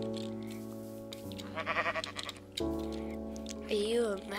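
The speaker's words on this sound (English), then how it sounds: "There's a sheep! There's a sheep!" Bleating sheep in Minecraft, several wavering bleats over a steady tonal game background, with a voice talking excitedly at moments.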